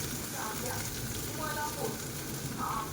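A steady, soft sizzle of onion paste frying in a pan, continuous and fairly quiet throughout, with faint stirring.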